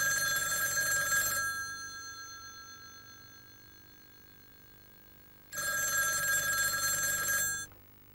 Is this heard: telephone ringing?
yes